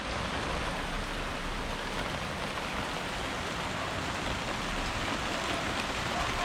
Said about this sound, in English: Rain delay.